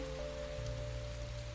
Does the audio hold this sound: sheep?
no